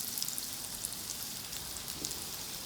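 Potato wedges sizzle gently in hot oil over low heat: a soft, steady crackle with tiny scattered pops, close and faint, with no voices.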